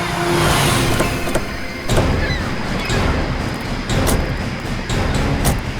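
A car pulls over and stops on a forest roadside, heard as a loud, rumbling engine and road noise with scattered mechanical knocks and clunks throughout.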